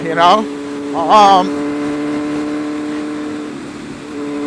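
A 2014 Kawasaki Z1000 motorcycle engine while riding, a steady humming drone with wind noise, while someone talks over it.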